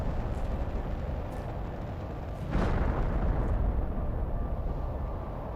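A rocket lands and explodes in Planet Crafter, one sudden blast partway through that leaves a louder rumbling wash behind it, set against a steady low ambient drone.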